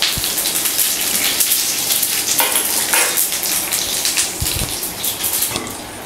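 Mustard seeds and curry leaves sizzle steadily in hot oil while tempering for a banana flower thoran, a dense continuous fry with a few sharper pops near the start and toward the end.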